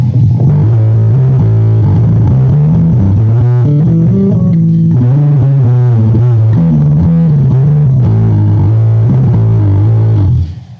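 Bass guitar played through a Metal Muff distortion pedal with distortion set low and bass turned fully up gives a heavy, loud, continuous riff of shifting notes for about ten seconds, with no talking.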